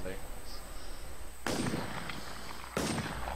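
Sniper rifle shots in the survival shooter WarZ: two sharp, loud cracks about a second apart, each trailing into a rough echoing tail, over a steady ambient hum with people talking.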